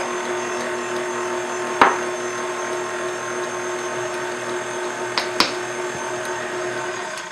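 Electric mixer beating blue velvet cupcake batter with eggs: a steady, even motor whir runs throughout, broken by a few sharp clicks and knocks from the beaters against the bowl.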